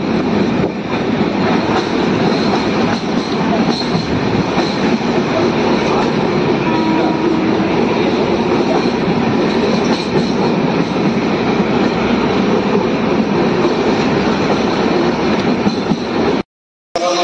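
A train rumbles along loudly and continuously over the Farakka bridge, with wheel clatter and a brief squeal, close and sustained before cutting off abruptly near the end.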